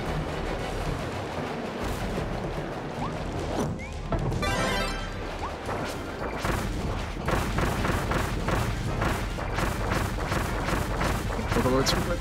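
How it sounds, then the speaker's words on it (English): A bomb explodes in Kirby and the Forgotten Land with a heavy booming burst and rumbling crashes, loud and close, amid busy game sounds while a person talks excitedly over it. "Oh no, no, not the bomb!"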